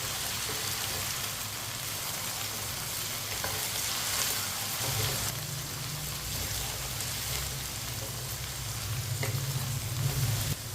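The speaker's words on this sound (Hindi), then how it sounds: "4-5 मिनट के लिए मैंने फ्राई कर लिया है दोनों चीज़ों को" Okra and potatoes fry together in a pan, giving a continuous crackling sizzle like light rain, close and steady with occasional soft stirring scrapes.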